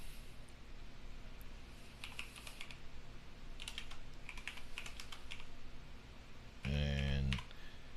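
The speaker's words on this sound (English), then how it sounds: "I'm gonna type it out because every place won't have that thing." Computer keyboard keys are tapped in short bursts of quick clicks while a website address is typed, faint against a hissy room background, with a louder thump near the end.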